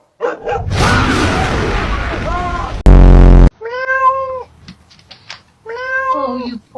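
Cat meowing near a doorbell camera, with repeated clear, close meows in short bursts and a loud electronic tone or noise burst between them; a person speaks briefly early on.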